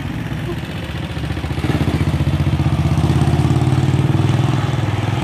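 A motorcycle engine idles on a road under construction at Station 2 in Boracay, a loud close rhythmic putter that steadies and strengthens after the first second and a half.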